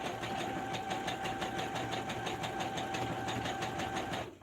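A sewing machine stitches a blanket at a steady pace, its rapid mechanical chatter running continuously and fairly close before stopping abruptly at the end.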